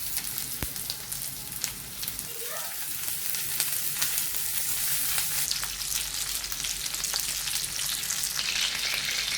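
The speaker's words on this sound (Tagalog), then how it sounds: "Now the oil is hot, so I will put the chicken." Chicken pieces fry in hot oil, giving a steady, close sizzle that runs throughout with scattered small pops and crackles.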